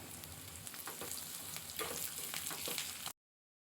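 Tempering for massoppu saaru, a greens-and-lentil rasam, sizzles and crackles steadily in a hot pan for about three seconds, close and fairly loud, then cuts off abruptly into silence.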